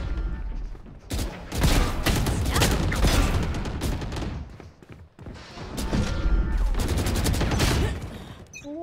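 Phantom rifle fire in the Valorant video game: two dense bursts of rapid automatic shots, loud and close, separated by a short pause, with game effects layered in.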